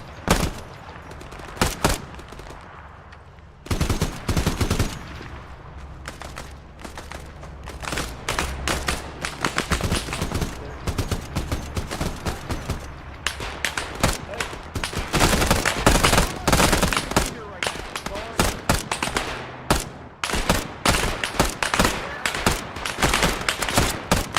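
Gunfire in a combat video game with a combined-arms compound assault: dense, near-continuous bursts of rifle and machine-gun fire crack loudly throughout, with occasional heavier booms and brief spoken voices beneath.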